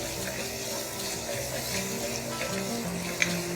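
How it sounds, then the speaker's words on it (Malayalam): Onions softening in a pan for Kerala-style chicken stew, cooked gently without browning, giving a steady, even sizzle that stays moderate throughout with no clear voices. "സവാള ഒന്ന് സോഫ്റ്റ് ആവുന്ന വരെ നമുക്കിതൊന്ന് കുക്ക് ചെയ്തെടുക്കാം"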